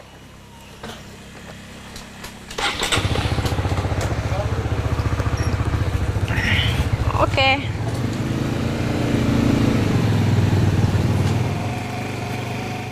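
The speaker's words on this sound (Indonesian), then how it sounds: "Terus kita naik ojek ini, naik motor" A motorcycle taxi (ojek) engine starts and revs up, then runs steadily and loudly as the bike sets off along mountain slopes toward a coffee plantation in rural Sulawesi, with brief speech at the start.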